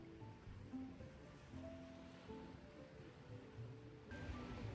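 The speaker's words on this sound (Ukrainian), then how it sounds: "А поки ось цей момент просто море, легкий бриз і тиша." Sea waves wash softly onto the shore at Odessa under a light breeze, a quiet, steady surf with gentle swells and faint faraway tones, no voices.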